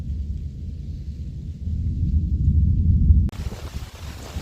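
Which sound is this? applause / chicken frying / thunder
thunder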